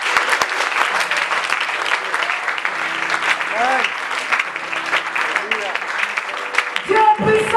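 A church congregation applauding to acclaim the Lord at a French-language service: sustained loud clapping from a crowd, with tonal sounds and a brief voice near the end.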